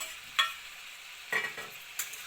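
Mixed vegetables with tomato being stirred and fried in a pan, a quiet background sizzle broken by three distinct scraping strokes of the spatula.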